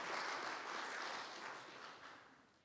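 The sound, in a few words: audience applause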